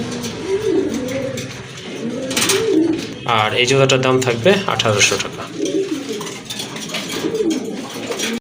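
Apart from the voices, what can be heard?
pigeons cooing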